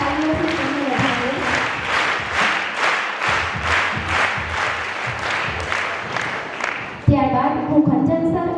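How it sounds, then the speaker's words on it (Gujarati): Sustained audience applause welcoming guests with bouquets at a formal ceremony, steady dense clapping for about seven seconds before a voice begins speaking. "આપણે જોરદાર તાળીઓથી તેમને વધાવીએ"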